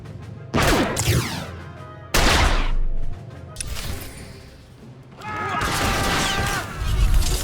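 Loud blaster-style gunfire in Star Wars: The Old Republic comes in sharp separate bursts with ringing, whistling tails and a crash-like impact, followed by a denser volley near the end.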